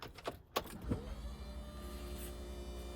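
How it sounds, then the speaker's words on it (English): A Mini Cooper's faulty electric power steering pump hums steadily after a few clicks and a soft thump as the ignition comes on, a continuous low whirring drone close by. "you can hear the pump running, and it's obviously assisting already."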